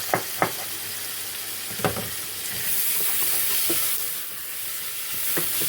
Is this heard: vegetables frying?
yes